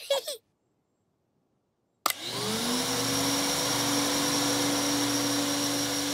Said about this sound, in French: Maintenant, vous pouvez passer l'aspirateur.